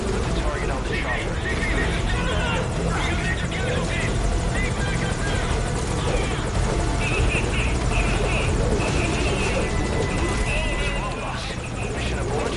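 A helicopter in Metal Gear Solid 5 Ground Zeroes drones on loudly and steadily, its rotor noise filling the scene while voices speak over it.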